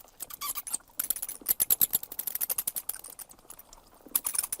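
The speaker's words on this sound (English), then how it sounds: "Squeaks and squawks filled the air." Rapid high-pitched squeaks and chirps of bats in a dark cave, dense and overlapping, pulsing continuously with a brief lull near the end.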